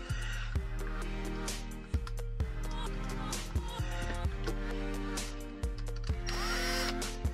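Power drill driving a screw into a Glock 19 appendix holster with sidecar, the motor whirring steadily for several seconds with repeated clicks and clunks as the screw seats, close and fairly loud.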